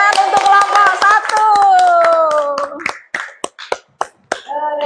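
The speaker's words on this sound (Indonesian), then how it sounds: "tepuk tangan untuk kelompok" A handful of sharp, separate claps follow a voice speaking in a classroom-style group activity, each hand strike distinct and close with short gaps between them.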